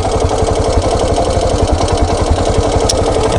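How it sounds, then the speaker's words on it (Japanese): Suzuki SW-1 motorcycle engine idling with a knocking fault, giving a loud, steady, rhythmic putter with hollow ticking pulses and no voices over it. "なんかポクポクポクポク言ってんだよね、アイドリングで。"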